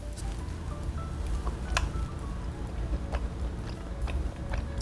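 Someone eating tteokbokki, spicy rice cakes, with soft close wet chewing and occasional small clicks over a low background rumble.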